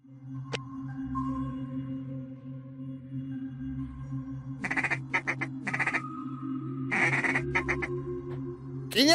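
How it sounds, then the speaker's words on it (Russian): Duck quacking in the puzzle game Forgotten Hill: The Wardrobe, a few bursts of calls in the second half over a steady low droning game background, with no talking. "Нам надо позвать утку."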